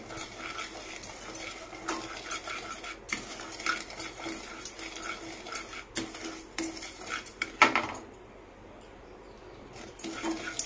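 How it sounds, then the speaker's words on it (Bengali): A spoon scrapes and clatters against a pan as semolina halwa is stirred and fried in ghee, irregular metallic knocks close by with a faint sizzle underneath, no talk, then quieter toward the end. "যাতে আরো নাড়তে থাকবে, আরো কিছুক্ষণ ধরে এটাকে ভাজবো।"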